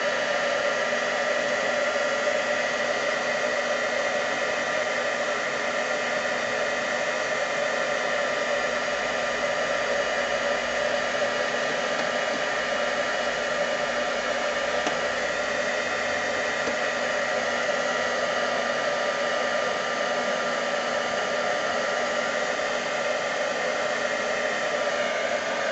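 Heat embossing tool blowing hot air over canvas tiles, a continuous, even electric whir like a small hair dryer, close and unbroken for the whole stretch.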